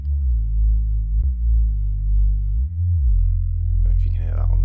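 Serum synth sub bass patch built from a sine and inverted sine wave, deep steady tones with a gliding pitch bend, loud and clean, ending with a brief higher blip.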